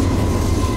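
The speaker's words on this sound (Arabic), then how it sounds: "وها هو قطار يمر بجانبنا." A train rolls past close alongside a moving car near a railway station, a loud continuous rumble with a faint steady tone on top, heard alone over its brief span.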